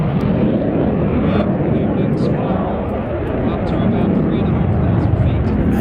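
An aircraft roaring past at the Midlands Air Festival air show, a loud, broad, continuous engine rumble that swells and eases slightly over several seconds, close and dominant.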